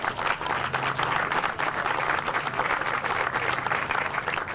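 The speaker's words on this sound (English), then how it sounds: "Let's give her a round of applause." Sustained round of applause from a community center audience, dense steady clapping throughout, fairly loud with a faint crowd murmur underneath.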